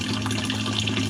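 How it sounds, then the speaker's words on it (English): Water runs from an RV kitchen sink faucet and drains down into the gray tank, a steady, close, broadband rushing flow with no breaks across the short span. "we're going to turn on the faucet on the kitchen sink and let this water run into the gray tank"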